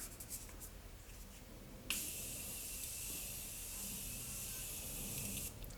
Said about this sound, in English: The spray is so fine, it smells gorgeous.